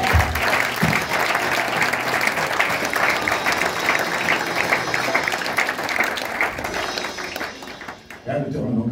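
A church congregation applauds loudly to acclaim Jesus, with dense, sustained clapping filling the space and a preacher's voice speaking over it, the applause thinning toward the end.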